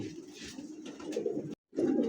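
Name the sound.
blue magpie pigeon cooing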